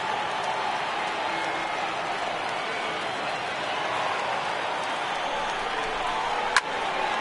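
A large crowd of over 39,000 at a baseball stadium roars steadily throughout, a broad, even wash of cheering with a sharp crack near the end.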